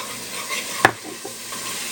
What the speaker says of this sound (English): my onions are cooking right up in there